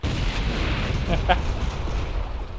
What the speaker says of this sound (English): Cool guys don't look at explosions, but we get to.